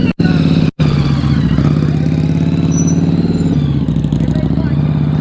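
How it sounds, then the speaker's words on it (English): Motorcycle engine during slow-speed riding practice, a steady loud rumble with a brief cut-out near the start, then an even low throb. "Hear his engine? Slow and controlled."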